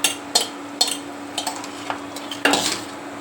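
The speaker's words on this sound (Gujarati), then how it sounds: "દાણા તળાય છે" Grains fry in a pan of oil in a home kitchen, with a soft steady sizzle under a series of sharp metallic clinks and scrapes from a spoon stirring against the pan, spaced irregularly.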